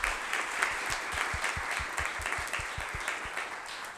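Applause from the audience at a public education summit as a panel is thanked, a steady wash of claps with sharp individual hits, moderately close and continuing evenly throughout.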